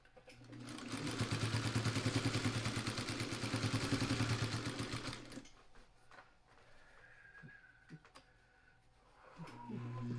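Sewing machine with a walking foot stitching through a thick quilt carrier, a fast steady mechanical clatter running loud for about five seconds, then stopping, leaving quieter handling noises and a brief restart near the end.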